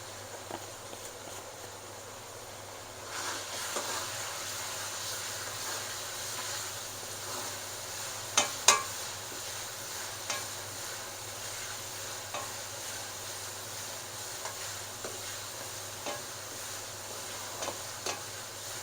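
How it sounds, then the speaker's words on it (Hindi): Cumin fries in a pot for beef yakhni pulao, giving a soft, continuous sizzle that swells after a few seconds, with occasional sharp ticks and stirring knocks. "थोड़ा सा हम इसको और फ्राई करेंगे, थोड़ा कलर और लेकर आना है"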